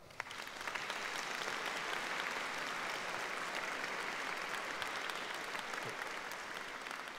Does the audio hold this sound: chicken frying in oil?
no